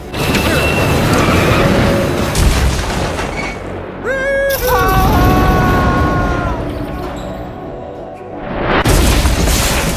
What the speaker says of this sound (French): il tira sur le câble de l'ascenseur qui se rompit net. Libéré de toute contrainte, la cabine s'élança vers le haut à une vitesse fulgurante